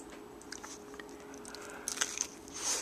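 A bite into a crispy waffle breakfast taco, close crunching and soft chewing over a few seconds, with a louder crisp crackle near the end.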